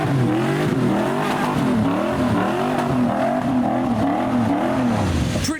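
A tuner car with an LS V8 engine revs at a wet car show, a loud close burbling roar with rising and falling throttle blips throughout, crowd and outdoor noise underneath.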